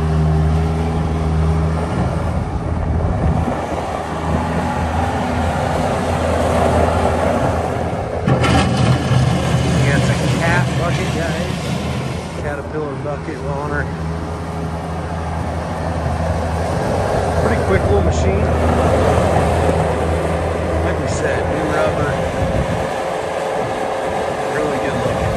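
A 2003 Bobcat S185 Turbo skid steer loader runs with a steady, loud engine drone and hum throughout, with slight shifts in pitch and some faint background voices.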